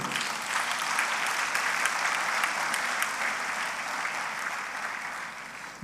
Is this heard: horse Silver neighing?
no